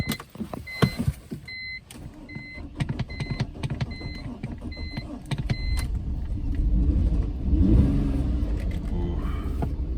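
A BMW engine cranks with a few sharp mechanical clicks and catches, then settles into a steady low rumble that grows louder toward the end, close by.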